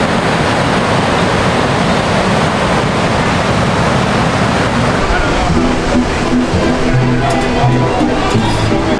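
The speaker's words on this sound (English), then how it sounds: "There's a lot of surfers here, you know, trying to catch these big waves." Big ocean waves at El Tunco beach in El Salvador, a popular surf spot, form a loud, constant roar of surf and wind close by, with faint boat or engine tones toward the end.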